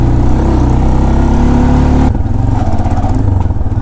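A motorbike engine revs hard and strains while climbing a steep hill, loud and close, its droning pitch dropping and turning rougher and more labored partway through.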